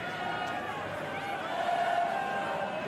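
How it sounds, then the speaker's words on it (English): Rugby stadium crowd at a Leinster versus Benetton match roaring steadily in support of the home side, a broad sustained wash of cheering under a commentator's voice. "Crowd doing their best to get behind the men in blue."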